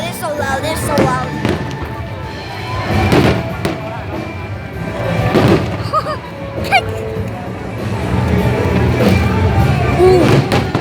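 Fireworks bursting over Hong Kong in the evening, loud booming explosions arriving every couple of seconds with crackling trails, heard beneath an excited crowd whose chatter and exclamations continue throughout.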